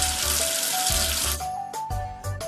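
Cartoon water rinsing soap off a number figure in a children's game, a bright running splash for the first half then broken bursts of spray with short musical tones over it, no voices.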